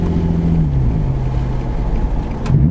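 A Nissan 350Z fitted with a 370Z Y-pipe drones loudly and close on a downshift, its deep exhaust note sliding down in pitch and then rising again at the end, with no talk.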